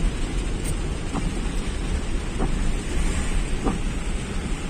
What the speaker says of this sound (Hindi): इधर भी काफी तेज बारिश हो रही है